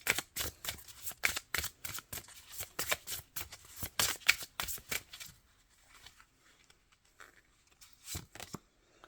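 Tarot cards being shuffled by hand up close in a quiet room, a rapid run of crisp riffling flutters that thins out into a few scattered soft card taps, no talk.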